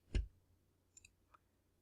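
A computer mouse gives a few faint, sharp clicks in a quiet room: one distinct click near the start, then two softer ticks about a second later.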